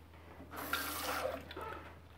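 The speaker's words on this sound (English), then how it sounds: "Let me get a little more water." Water runs steadily from a kitchen tap into a cooking pot while picadillo with beef is being made, a close, continuous splashing stream lasting about a second and a half, with no talking.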